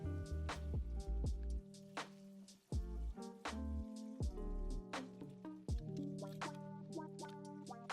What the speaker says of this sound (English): Then we'll pour in about 4 quarts of water.